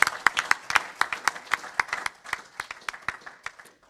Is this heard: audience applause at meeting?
yes